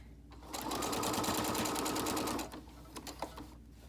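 Sewing machine stitching a fabric face mask, running in one steady continuous burst for about two seconds, then stopping and leaving faint clicks and handling noise, close and alone with no talking.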